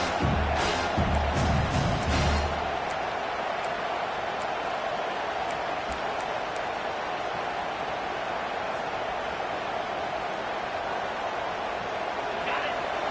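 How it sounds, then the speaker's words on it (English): A packed football stadium crowd roars as a steady, dense wash of noise that never lets up, with a brief louder surge near the start and a commentator's voice talking over it. "This crowd going to try to make life miserable for these guys"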